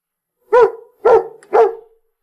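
A man imitates a dog, giving three evenly spaced, loud barking sounds in close succession against silence.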